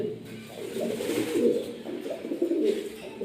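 Pigeons, red-faced running pairs kept on a farm, coo softly in low repeated murmurs, close by and fairly quiet.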